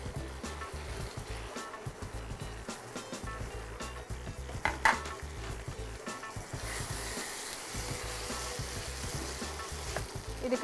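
Chicken pieces sizzle and fry in a pan, a steady crackling hiss with occasional stirring and utensil scrapes, close and continuous with no voices.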